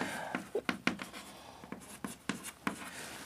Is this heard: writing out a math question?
yes